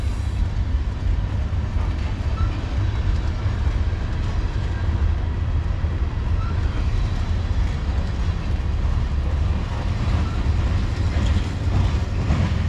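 A CSX manifest freight train with a GE ET44AH leading rolls past close by, a loud, steady rumble and roar of cars passing without a break.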